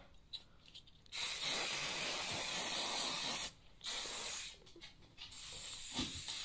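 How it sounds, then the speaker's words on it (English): Hairspray hisses close up from an aerosol can in long bursts, one lasting over two seconds, then shorter sprays after brief pauses. "I wanna give everything one last good spray of hairspray."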